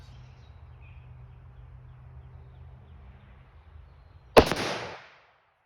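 A single loud, close rifle shot from a Palmetto State Armory AK chambered in 5.56 cracks out against a quiet outdoor backdrop, followed by a brief ringing tail and then silence.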